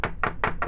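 A soap mold filled with freshly poured soap is tapped against a surface four times in quick, even succession, close and fairly loud, with no talking.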